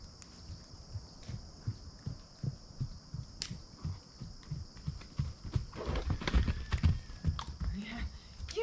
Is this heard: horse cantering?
yes